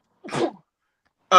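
A single sharp sneeze, fairly close, followed by a pause of quiet and then a voice starting to speak.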